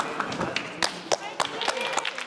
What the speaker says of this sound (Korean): 많은 박수 갈채를 받으면서